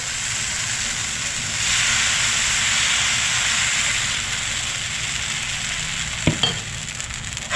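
Benne dosa batter sizzles loudly on a hot pan, a broad steady hiss that swells slightly midway, with a couple of brief utensil knocks near the end and no talk.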